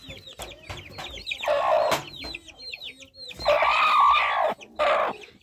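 A broody hen clucks repeatedly up close, with small chicks peeping in quick chirps around her and a couple of longer, louder squawking calls.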